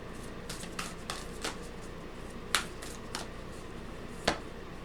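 Moonology oracle cards being shuffled by hand, a soft steady papery riffle with a few sharper slaps and snaps standing out, close and fairly quiet.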